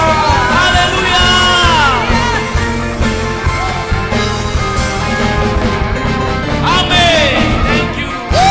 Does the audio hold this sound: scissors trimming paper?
no